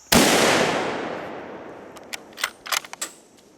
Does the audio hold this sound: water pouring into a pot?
no